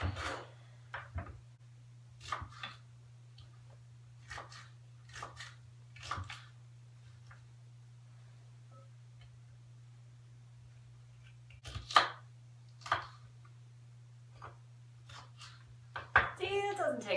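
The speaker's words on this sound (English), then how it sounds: "Let's chop these up." Peppers are chopped on a cutting board, a sparse series of short knife knocks in small clusters with pauses, close and soft over a steady low hum.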